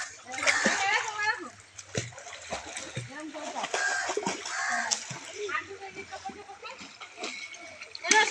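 Water splashes and sloshes as people bathe in the Ganges during a river puja, with irregular nearby splashes mixed under frequent talking and children's voices.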